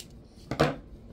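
Scissors make a single brief snip through paper while cutting out pieces for vintage-style clothespin crafts. Quiet room tone surrounds the cut.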